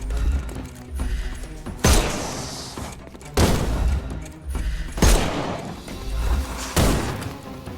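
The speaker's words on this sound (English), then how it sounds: "Oh, it's a gunfight." A gunfight in a Sherlock Holmes video game, with several loud booming gunshots and crashes arriving at irregular intervals over a rumbling background, each blast sharp and close.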